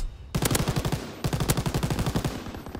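Machine gun fire in Call of Duty WW2, two sustained rapid bursts of evenly spaced shots, loud and close, separated by a brief pause.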